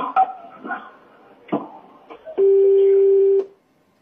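A telephone call cuts off with a single steady beep tone held for about a second after some faint muffled sounds and clicks.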